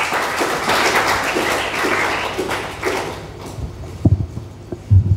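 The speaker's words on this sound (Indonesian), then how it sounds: "Kasih tepuk tangan untuk Tuhan." A church congregation claps for God during a sermon, with loud, busy applause for the first few seconds that thins into scattered, fading claps and a few sharp knocks.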